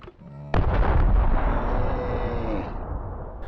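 A frag grenade from the video game DayZ detonates with a sudden loud bang, then a heavy rumbling roar that slowly fades over several seconds, with no voices.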